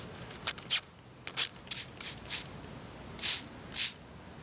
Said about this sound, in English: I'll spray it with some water here.